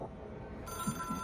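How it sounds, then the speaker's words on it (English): A phone ringing in the video game Control, a faint electronic ring tone entering partway through with a couple of low soft thuds beneath it. "It is a phone."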